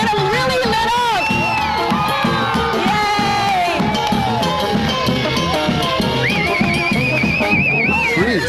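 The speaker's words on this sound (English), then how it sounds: "Make some more noise, crowd, so we can get them really lit up." A large outdoor crowd at a holiday tree lighting in Lincoln Square cheers, whoops and shouts continuously, with children's voices, a whistle and festive music mixed into the dense roar.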